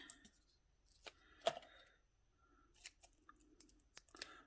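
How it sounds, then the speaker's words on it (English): A few separate snips of scissors cutting, sharp and close, spaced irregularly against near silence. "I really need my non-stick scissors."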